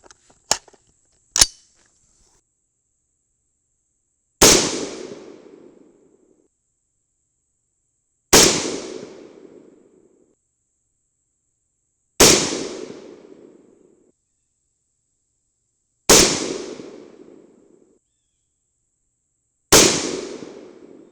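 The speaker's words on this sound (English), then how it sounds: "But let's just shoot a group," An AR-15 rifle with a suppressor fires .223 rounds in a group: two quick sharp cracks, then five loud single reports spaced about four seconds apart, each with a short decaying tail, no talking.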